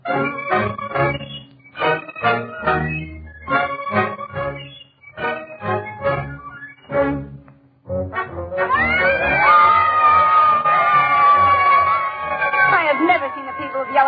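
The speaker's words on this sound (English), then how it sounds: "Look how they're cheering." A crowd in a radio drama cheers and roars, loud and sustained, with excited voices rising together, after a stretch of plain talking.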